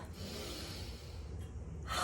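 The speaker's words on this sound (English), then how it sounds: "We're gonna take a deep breath in" A single deep breath drawn in through the nose, a soft, quiet airy inhale that holds steady before a sharper intake at the very end.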